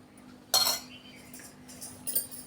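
A spoon clinks sharply against a bowl while blended cream for a New Year cake is scooped into another bowl, with one bright clatter followed by softer scrapes and taps, close and without talk.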